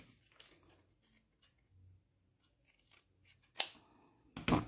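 Scissors snip through a folded paper page for a bible journaling craft, a few scattered quiet cuts followed by two louder, sharper snips near the end, with no talking.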